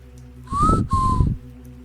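Two short whistled notes, the first rising and the second gently falling, clear and close over a low steady hum.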